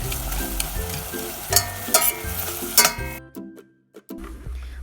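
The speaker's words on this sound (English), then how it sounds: "Our ground beef is soft now, so we must cover again and cook for a few minutes." Ground beef sizzling and frying in a pan for stuffed zucchini, a steady crackle with a few louder stirring clatters, then a brief near-silent pause before the sizzle resumes.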